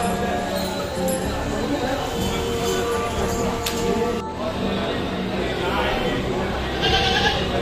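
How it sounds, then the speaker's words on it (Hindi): Goats bleat amid a busy, noisy outdoor scene, with voices talking and crowd murmur throughout. "मुदस्सिर ब्रो तेरे अब्बा बकरा लेकर आ गए, वो भी इधर।"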